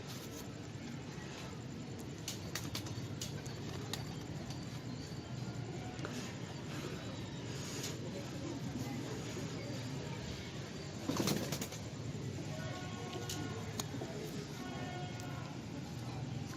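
Soft pigeon cooing and occasional rustling of wings over a steady outdoor background hum, with a brief louder flutter partway through.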